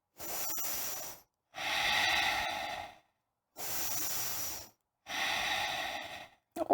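Slow, deep breaths during a yoga class, four long airy inhales and exhales with quiet gaps between them, close and steady, with no talking.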